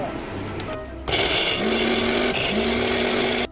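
A blender whirs as it blends marinade ingredients for tawa chicken, such as garlic, onion, ginger, coriander and chilli, with a low hum giving way to a loud, steady motor drone that runs close and uninterrupted until it cuts off.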